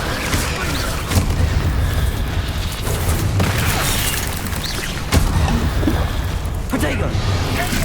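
Explosions from the Confringo spell in the video game Hogwarts Legacy, a series of booming blasts and rumbling impacts with sharp cracks at intervals, loud and dense amid game battle noise.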